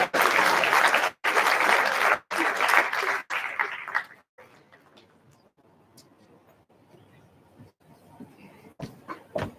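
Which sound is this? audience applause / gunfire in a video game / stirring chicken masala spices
audience applause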